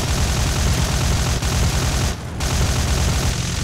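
Aircraft cannons hammer in War Thunder, a loud continuous stream of rapid fire that breaks off briefly and then resumes, with no talking.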